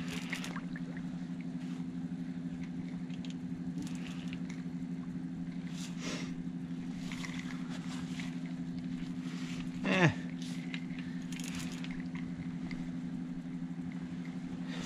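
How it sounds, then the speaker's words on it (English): A trolling motor runs on a fishing boat with a steady low hum throughout, while splashes and water noises come and go and a brief louder splash or bump is heard partway through. "Dude got the trolling motor on."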